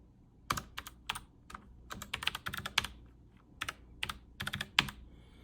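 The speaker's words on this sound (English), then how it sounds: "The keys themselves, they do have that satisfying clicky feel to it." Clicky switches on a Logitech MX Mechanical Mini keyboard clack in quick irregular bursts of close, crisp keystrokes with short pauses between, no talk over them.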